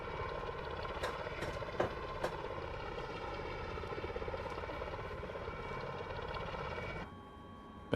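An RC Osprey MV-22 model tiltrotor lifts off in helicopter mode, its twin rotors and motors making a steady whirring drone with a few sharp clicks before it drops off sharply near the end.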